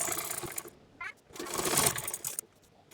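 Sewing machine stitching a fabric chair cover, running in short uneven bursts of whirring with brief pauses between, moderately close and fairly quiet.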